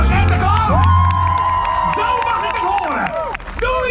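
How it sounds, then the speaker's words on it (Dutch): An audience of children and adults claps and cheers for a clown at a Halloween event at Walibi Holland. There are shouts and whoops, and a host speaks loudly over the crowd throughout. "Geef hem een applaus."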